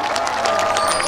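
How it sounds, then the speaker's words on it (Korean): A festival crowd at a seaside port celebration applauds and cheers as a trot singer is introduced, a brief dense wash of clapping and shouting heard from some distance. "박수 부탁드립니다."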